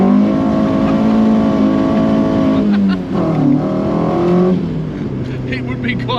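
A Mk2 Ford Escort van swapped to a C20XE engine revs loudly up close in a few strong rising pulls that dip between them, with some background noise mixed in.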